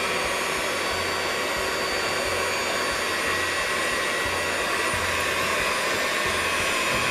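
An electric mixer combines dry and liquid ingredients for sweet bun bread dough, a loud steady motor whir that runs unbroken and close without any talk.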